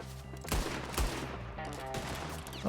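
Gunfire from Red Dead Redemption 2, with two heavy shots standing out over a dense, continuous din of game sound and music; later bursts are softer and blend into the busy mix.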